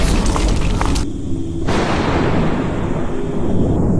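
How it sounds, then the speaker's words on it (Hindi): Two loud, close bangs like firecrackers going off in a room, each a sharp burst that leaves a heavy rumbling wash of noise behind it. "कमरे में जोर से 2 आवाजें आती हैं, जैसे कोई पटाखे फटे हो।"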